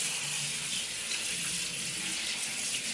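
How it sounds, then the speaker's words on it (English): Cold tap water pours steadily and loudly over strained gluten-free noodles in a kitchen sink, a continuous hiss and splash with no talk over it. "I'm gonna strain this, and I'm gonna put a bunch of cold water on it, because that's the trick to gluten-free noodles."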